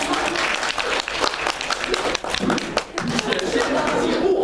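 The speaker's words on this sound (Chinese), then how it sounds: "此处可以有掌声" An audience at a teahouse crosstalk comedy show applauds with a dense, loud, steady burst of clapping, and voices mix in with it.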